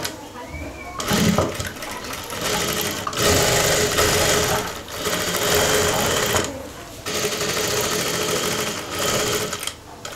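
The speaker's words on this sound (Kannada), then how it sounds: "ಸೊ ಒಳಗಡೆ ರಾಂಗ್ ಸೈಡಿಂದ ಹೊಲ್ಕೊತಾ ಇದ್ದೀನಿ" Sewing machine stitching leggings along the inside seam from the wrong side, running in several loud, close bursts of rapid mechanical whirring separated by short pauses.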